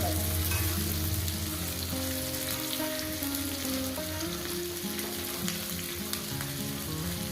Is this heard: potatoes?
yes